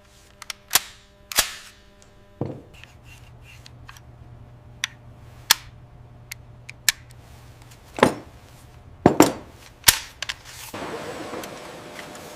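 AK-47 rifle test rounds fired at a factory, sharp isolated cracking reports spaced irregularly, some with brief echoing tails, against a faint mechanical background with no voices.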